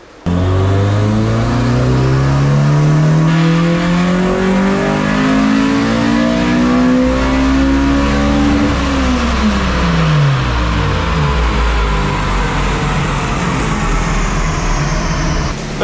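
A built Honda B20 engine in a Civic roars through a dyno pull, the pitch sweeping steadily upward as revs climb, then falling away as it lets off. It is loud and close, with no talking.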